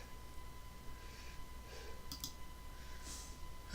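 A mouse clicks on a template item in Mac estimating software: a couple of quick, faint clicks close together partway through, over a steady low electrical hum with no talking.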